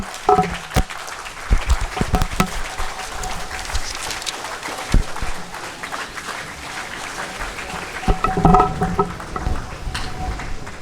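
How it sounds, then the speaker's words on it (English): Audience applause at a 50th anniversary ceremony at Arewa House after a speech on Nigeria's knowledge economy: scattered, uneven clapping of moderate loudness with a few sharper claps and some crowd noise. "Round of applause."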